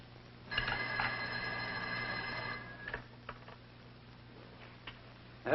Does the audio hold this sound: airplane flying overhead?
no